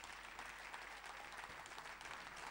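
A church congregation applauding, a steady, faint patter of many hands clapping together continuously throughout.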